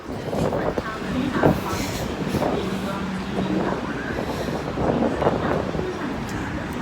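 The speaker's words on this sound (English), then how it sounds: "The train to Whampoa is arriving." A metro train rolls into Ngau Tau Kok Station in Hong Kong with a steady rumble and rattle, with faint voices and an announcement-like tone in the busy ambience.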